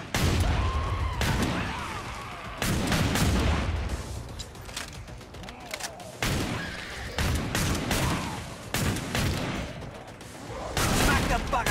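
Sharp bursts of gunfire from the Killing Floor video game, loud shots in rapid clusters separated by brief lulls, with game character voices speaking between the volleys.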